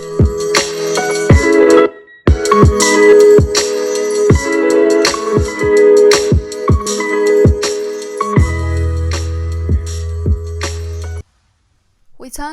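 Royalty-free music plays loud through an IKARAO Break X1 100-watt karaoke party speaker, a steady beat with sustained tones and a heavy bass section near the end before the sound cuts to silence.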